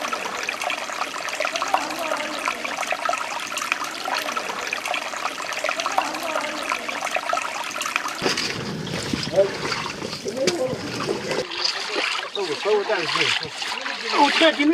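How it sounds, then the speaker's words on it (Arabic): Natural sulfur spring water flowing steadily through a rocky valley stream bed, a constant near rushing and trickling with splashes that grow busier toward the end. "مياه تجري على مدار الساعة في مجرى الوادي، فيها شفاء للناس"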